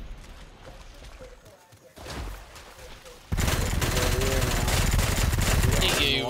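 Video game gunfire in a team shooter match, bursts of rapid shots building into a loud, dense fusillade that continues to the end, heard together with excited players talking.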